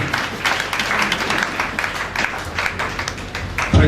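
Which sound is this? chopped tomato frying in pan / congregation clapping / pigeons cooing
congregation clapping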